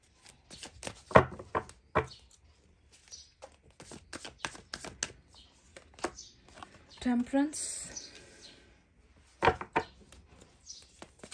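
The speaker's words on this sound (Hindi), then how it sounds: "दो कार्ड इस डेक से भी मैं ले रही हूँ" Tarot cards are drawn from a deck in short, soft papery rustles and snaps that come and go at close range, with a voice talking between them.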